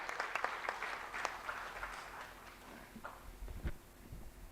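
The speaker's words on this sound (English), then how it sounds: "Ladies and gentlemen, please give a round of applause for Shri V.L. Kantarao." Applause from an audience at a government mineral block auction event, a scattered patter of hand claps at fairly low level, fading slightly toward the end.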